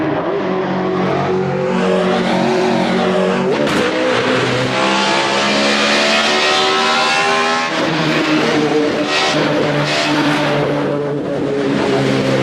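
A roaring race car engine in a video game revs and screams continuously, shifting pitch as it accelerates, with brief tire squeals; loud and close throughout, no talking.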